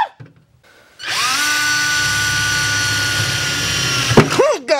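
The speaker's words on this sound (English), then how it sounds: "Christmas tree drill." A power drill whines loudly and steadily as a step bit cuts through a metal car bumper beam, the pitch holding for seconds before winding down.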